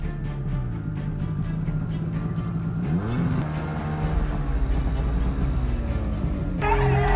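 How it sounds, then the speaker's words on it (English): A revving snowmobile engine drones steadily, its pitch climbing midway through before settling into a continuous rumble, with a brief change in tone at the very end. "the noise of a snowmobile engine"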